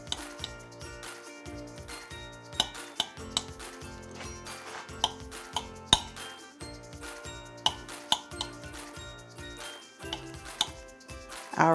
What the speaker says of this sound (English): I'm going to take a knife and just slice the pork into nice slices.